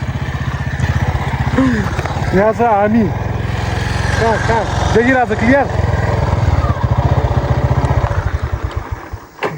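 An NS motorcycle engine runs close by in a park with a continuous chugging rumble, while people chat loudly over it.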